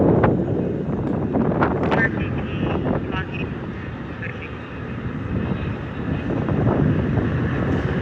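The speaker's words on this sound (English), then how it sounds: "It's really windy in this area." Heavy wind buffeting the microphone in a steady low roar at a Los Angeles protest, with faint voices and a distant engine-like drone underneath.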